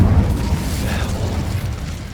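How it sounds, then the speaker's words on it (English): An Incendio fire spell in Hogwarts Legacy on PS5 erupting as a loud, dense rumbling burst of flame that slowly fades over a couple of seconds, no talk. "Incendio!"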